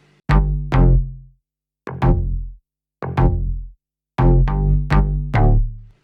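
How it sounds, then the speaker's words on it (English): Synth bass plays short, punchy filler notes in clusters of two and three separated by brief gaps, deep and loud with bright harmonic tops, no drums or voices alongside. "And then I have the filler basses, which is small notes and fills in between the other ones"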